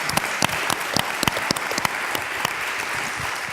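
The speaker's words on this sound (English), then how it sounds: "I think there's a round of applause for that." Audience clapping at the B Corp Summit 2018 in Amsterdam, a steady, fairly distant round of applause from a large hall with individual sharp claps standing out throughout.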